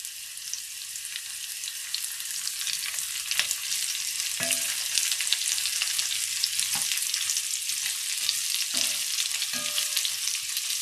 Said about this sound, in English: I am going to go ahead and add the lotus and the chopped carrots